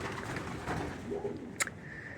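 Soft, low cooing of Budapest pigeons in a noisy outdoor setting by a pigeon loft, with a brief sharp chirp near the end and steady background hiss.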